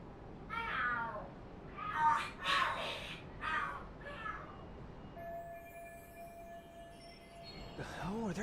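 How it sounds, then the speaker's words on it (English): In the video game Lost Judgment, cats fighting let out a burst of loud yowls and screeches in quick succession, followed by a quieter stretch with a thin steady tone and a final short cry. "Are there cats fighting?"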